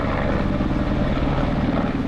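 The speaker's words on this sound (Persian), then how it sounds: "صدای پره‌های هلیکوپتر" Rescue helicopters flying over a mountain region after an earthquake give off a steady, dense rotor and engine drone that holds at an even loudness throughout, with no voices.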